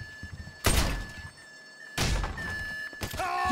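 A door forced open during a police raid in a crime video game: two heavy thuds about a second apart, followed by a third impact, over a steady background hum.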